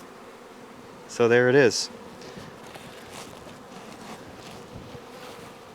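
Young nurse bees cling to hive frames during queen rearing, giving a soft, steady hum throughout, while a person talks briefly near the start.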